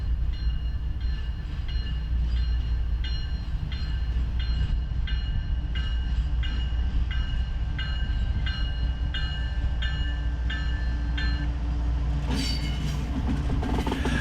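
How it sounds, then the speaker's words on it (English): CSX freight locomotive 3266 pulling a mixed consist of hopper cars past a trackside spot in northeast Alabama, with a loud steady rumble, rhythmic wheel clacks over rail joints and a brighter burst near the end. "the train comes up and you have 3266 from CSX pulling a mixed consist of hoppers"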